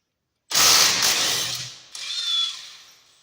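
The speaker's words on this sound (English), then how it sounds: "You gotta crack off the 2 bolts." A power tool cracks loose the two brake bracket bolts on the front brake of a 2014 Kia Forte EX: a loud, close whirring burst, then a second, shorter burst after a brief dip.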